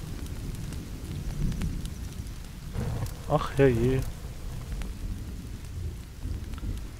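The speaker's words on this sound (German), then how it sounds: "Jetzt regnet es auch noch." Steady rain and a low thunder rumble from the video game The Forest fill the scene, with a voice speaking briefly over the storm partway through.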